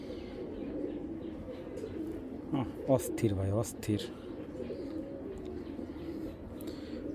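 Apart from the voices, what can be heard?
pigeons cooing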